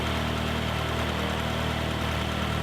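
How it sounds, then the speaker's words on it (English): UL Power 350iS aircraft engine running steadily on a test stand, a loud continuous droning hum with even vibration and no change in pitch, nothing else audible. "The rest of this video is just the engine running and me playing with the various throttle positions"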